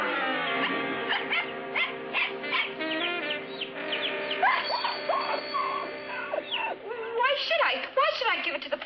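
A dog whimpers and whines in high, wavering cries, close and fairly loud, mixed with speech and some chirpy bird-like sounds.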